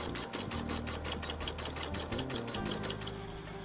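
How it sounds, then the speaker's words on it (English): A computerized embroidery machine stitches a stem stitch over a raw fabric edge, giving a fast, even, mechanical needle chatter that runs steadily and alone at a moderate level. "it's going to stitch a stem stitch over the raw edge"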